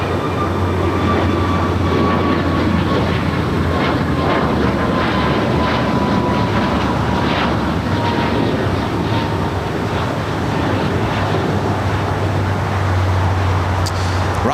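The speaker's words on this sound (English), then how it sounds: "Next takeoff here on the south side, American Airlines flight 1659. It's an" American Airlines Airbus A321neo taking off from the south side at LAX, a steady loud jet engine roar that stays constant for about fifteen seconds, heard from a spotting position near the runway.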